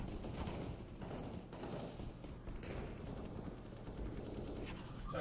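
Counter-Strike gunfire from an AK rifle, shots crackling in a dense, continuous stream of loud bursts that fill the whole stretch without pause.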